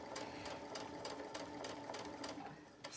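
A sewing machine stitches through pinned, basted fabric in quick, steady bursts of rapid needle clatter, close and continuous with brief pauses, with no talk.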